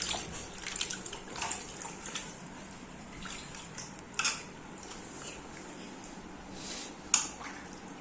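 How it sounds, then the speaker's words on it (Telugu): Mangoes from an orchard are washed by hand in salted water, giving soft sloshing and a few sharp splashes and knocks, close and faint, with no talking. "ఉప్పు వేసి వాటర్లో కడుగుతున్నాము"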